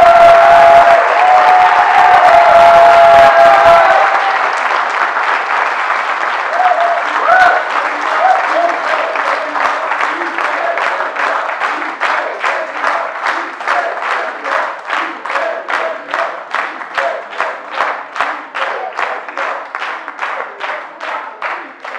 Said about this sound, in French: ici, on n'a pas prévu les applaudissements